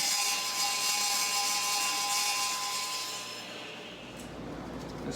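A hand or power saw cuts a wooden sideboard piece to rough length, a steady bright rasping whine held for several seconds, then tailing off as the cut finishes, close and fairly loud, no talk.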